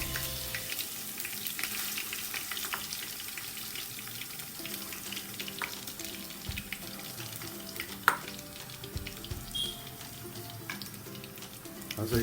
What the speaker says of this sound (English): onion got brown. I'm adding ginger garlic to it.